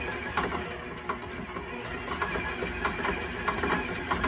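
A stand mixer works calzone dough in a home kitchen, a steady mid-pitched motor whir with rhythmic thumping as the dough slaps and beats into a lump, moderately loud and alone.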